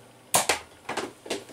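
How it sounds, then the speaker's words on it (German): A Nerf Snapfire toy blaster fires in a few sharp, close plastic snaps and clicks, roughly four quick bursts with no voices. "Mit der Snapfire kann ich schießen, weil es ein ganz langer gerader Lauf ist."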